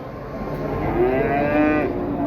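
Limousin cattle low and moo at a busy livestock market, one drawn-out moo sounding clearly over steady crowd and background noise.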